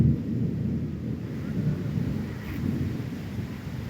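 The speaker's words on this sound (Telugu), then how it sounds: "అగ్గో ఉరుముల సౌండ్ చూసారా?" Low thunder rumbles continuously as a rainstorm approaches over coconut groves, fields and a sapota orchard, a steady, deep roll heard at a distance with no talking.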